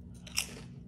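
A single crisp bite into Mexican sour cream and onion potato chips, a sharp close crunch around the middle of a brief, otherwise quiet moment with a low background hum.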